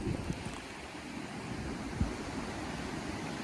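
Small waterfall spilling over the dam at Cox Hollow Lake in Governor Dodge State Park, a steady moderate rushing wash of water with no voices.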